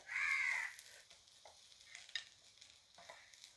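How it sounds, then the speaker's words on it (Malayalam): Dried sole fish stirred with grated coconut in a pan, giving faint, quiet scraping and light sizzling, opened by a loud crow caw nearby. "ഇനി നമ്മുടെ മീൻ അങ്ങോട്ട് പെറുക്കിയിട്ട് കൊടുക്കാം നമ്മുടെ മാന്തൽ നന്നായിട്ടങ്ങ് മിക്സ് ചെയ്യാവേ"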